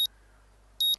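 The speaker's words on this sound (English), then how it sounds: "The sound of my alarm is an unwelcome intrusion on a sleep that's been a battle to obtain." An alarm clock in the visual novel game Katawa Shoujo gives two short, bright electronic beeps, one at the very start and one near the end, separated by near silence.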